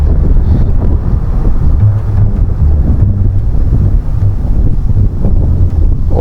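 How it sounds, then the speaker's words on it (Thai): Strong, cold wind roars continuously across the microphone during a roadside bamboo-rod snakehead fishing outing, a loud, steady, low buffeting rumble with no break. "ลมแรงครับ"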